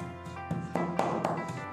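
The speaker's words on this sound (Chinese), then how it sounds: "准备5毛钱的猪瘦肉剁成肉末" A kitchen knife chops lean pork into mince on a board: crisp, evenly spaced strikes about four per second over a steady background hum.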